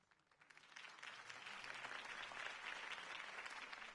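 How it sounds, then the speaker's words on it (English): A large crowd applauds and cheers at a campaign rally in a Batman video game, a dense, steady wash of clapping that swells after a quieter start and holds loud throughout. "If only Mr. Wayne, my campaign's largest backer, could have heard that applause"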